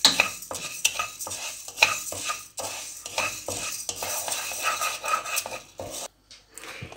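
Moong dal dry-roasts in a hot pan for Deepavali snacks, with a spatula scraping and rattling the dry grains in quick repeated strokes, close and fairly loud, before a brief pause near the end.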